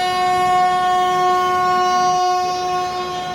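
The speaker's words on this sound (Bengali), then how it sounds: "আমাদের ট্রেন চলতে শুরু করে দিয়েছে।" A train on the Howrah–Tarakeswar line begins to move, with a loud, steady tonal drone like a sustained horn running through the whole stretch.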